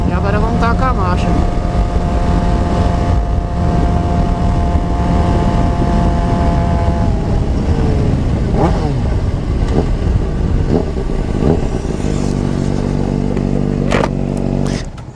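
A vehicle engine climbing in pitch as it accelerates, loud and close, then shifting gear with a drop and a fresh rise near the end, under a steady rumble with road and wind noise.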